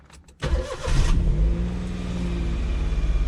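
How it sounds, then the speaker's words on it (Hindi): An old second-hand car's engine cold-starts with the bonnet open: a short cranking burst, then it catches and settles into a loud, steady, slightly lumpy idle, close by and heard alone. "और ये हम गाड़ी को करते हैं स्टार्ट।"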